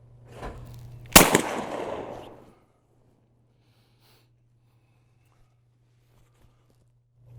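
A shotgun fires at skeet and trap targets at Carter's Country: one sharp, loud blast near the start with a short ringing decay, then near silence over a low steady hum.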